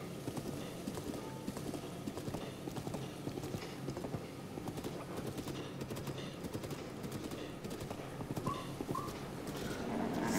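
Horse hooves clip-clop in a steady, quick galloping rhythm in the video game The Legend of Zelda: Breath of the Wild, moderately loud and continuous throughout, with faint game ambience behind them.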